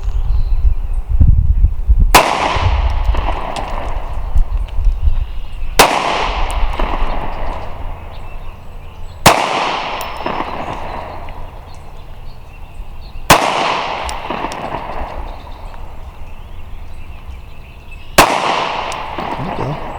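A compact Sig P365 or Walther PPS M2 pistol fires five sharp, loud single shots at an outdoor range, spaced a few seconds apart, with a coach's voice faintly between them.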